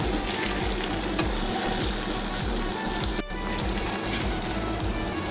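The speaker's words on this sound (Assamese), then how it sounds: "নিজে আছে মছলাৰ পানীখিনি ইয়াতে দি দিছোঁ" Masala water is poured into pigeon meat curry frying in a pan, producing a loud, steady, close sizzle and bubbling hiss throughout, with a brief clatter near the end.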